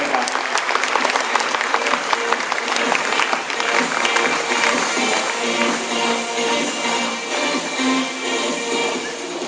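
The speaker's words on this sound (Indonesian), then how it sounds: "beri tepuk tangan yang luar biasa pada mereka" Audience applause for diamond-rank members at a Jeunesse business seminar, a loud, dense crowd clapping that starts sharp and gradually softens over about nine seconds, with some shuffling beneath.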